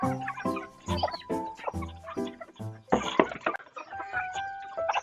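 Laying hens cluck repeatedly at close range in a farmyard, a busy run of short, overlapping calls with a few louder squawks toward the middle.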